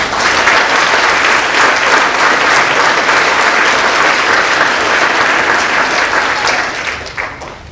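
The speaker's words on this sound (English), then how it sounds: "So let's give them a round of applause." Loud, dense applause from an audience at a spring nursing pinning ceremony, a continuous roar of many hands clapping that holds steady and tapers off at the end.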